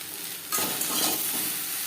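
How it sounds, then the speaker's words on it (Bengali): Ridge gourd and pointed gourd are stir-fried with onion and chilli over a high flame, a steady hiss that swells into a louder, brighter sizzle as the vegetables are tossed, close and with no voices. "পেঁয়াজ ও লঙ্কার সাথে ঝিঙে পটল বেশ ভালো করে মিক্স করে হাই ফ্লেমে তিন চার মিনিট"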